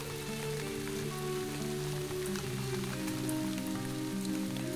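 Steady rain falls on a village during a storm, a continuous soft patter of drops spread evenly throughout, with low sustained musical tones underneath.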